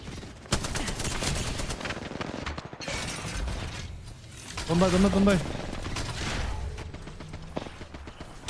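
Rapid automatic gunfire and mechanical clatter ring out in an Overwatch 2 match, dense bursts layered with game effects while a player talks over the action.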